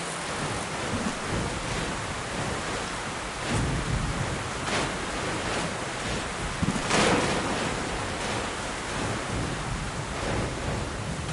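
Storm raging in the game Metro Last Light: a steady wash of rain-like noise with low thunder rumbles rolling underneath, and a sharper crack of thunder standing out about two-thirds through.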